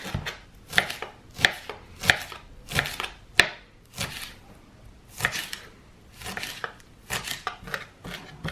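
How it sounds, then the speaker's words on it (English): A knife roughly chops tarragon on a cutting board, giving a close series of crisp, irregular thuds in quick clusters with brief pauses between bursts. "And I'm just going to roughly chop it."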